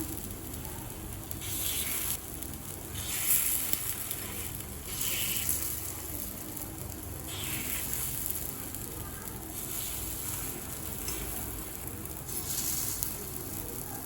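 Wheat flour kuzhi paniyaram cooking in a pan, giving a steady low sizzle and crackle of oil with soft swells, continuous and fairly quiet, no talking.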